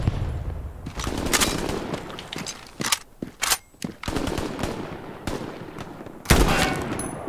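Rapid automatic gunfire from the video game Hell Let Loose, loud, close bursts of shots with short gaps between them and a sharper volley near the end, with almost no talk.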